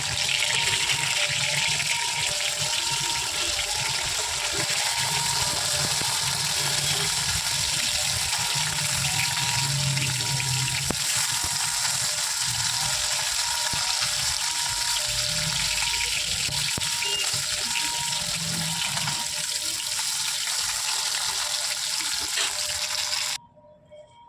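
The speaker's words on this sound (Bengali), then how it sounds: "বাটা মাছগুলো একটু ভালো করে ভেজে নেব, একটু লাল লাল করে।" Bata fish frying in hot oil, a steady loud sizzle and hiss that runs almost unbroken for the whole stretch before cutting off abruptly at the end.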